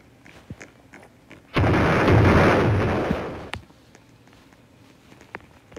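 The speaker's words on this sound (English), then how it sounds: "I heard an explosion somewhere." An explosion in the Roblox Brookhaven video game sounds as a sudden loud broadband blast that holds for about two seconds and then cuts off, with quieter clicks before and after.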